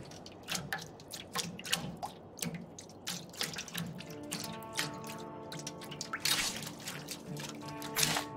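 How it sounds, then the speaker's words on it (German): Water bubbles and drips in the video game State of Decay 2, a steady close gurgle of frequent liquid pops with a faint tonal hum rising beneath it. "Ist auch noch so Blubberwasser."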